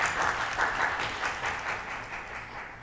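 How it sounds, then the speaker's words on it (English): A room full of people at an international education event in Taichung applauds steadily, the clapping fairly close and sustained, slowly tapering off toward the end. "let's give a round of applause to Professor Zheng"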